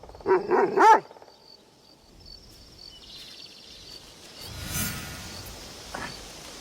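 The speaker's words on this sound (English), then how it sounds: "Auntie Matsu always told me to look out for strange dogs" A dog barks in the video game Assassin's Creed Shadows, a quick burst of three or four close, loud barks at the start, followed by a quiet ambient outdoor hum with insect-like buzzing.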